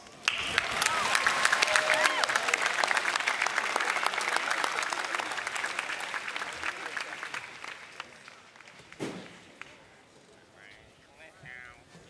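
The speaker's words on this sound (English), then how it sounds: "Please applaud yourselves." Graduates at a University of Virginia degree ceremony applaud themselves outdoors, a broad sustained wave of clapping that tapers off after about eight seconds, followed by a brief voice and quiet.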